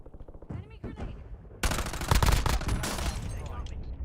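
Rapid bursts of gunfire in an online shooter game, dense loud volleys packed together after a quieter start, with a voice talking underneath.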